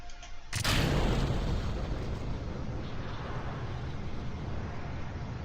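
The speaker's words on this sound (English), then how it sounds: "And we have liftoff." Rocket liftoff in Kerbal Space Program, a sudden loud ignition burst followed by a sustained, dense roaring rumble of engines that continues steadily.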